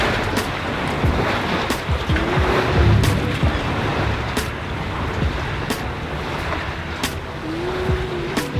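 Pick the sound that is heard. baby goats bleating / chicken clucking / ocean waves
ocean waves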